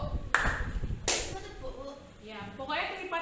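Classroom students clap their hands in two sharp, close bursts about a second apart, with background chatter and voices in the room.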